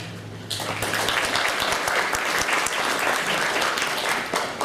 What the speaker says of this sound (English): I'll tell David you gave him applause.